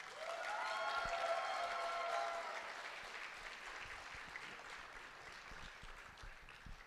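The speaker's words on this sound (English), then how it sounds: "Give me a long round of applause for Mr. Sam Witwer." A comic con panel audience applauds loudly for a few seconds, with cheering on top, then the clapping gradually thins and fades but keeps going.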